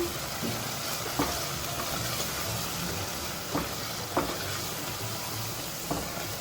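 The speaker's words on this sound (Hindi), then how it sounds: "अब इन तमाम मसालों को मिक्स करेंगे अच्छी तरह।" Spice masala with chili, turmeric and salt frying in a pan, a steady soft sizzle with a few sharp scrapes of a spoon stirring at intervals.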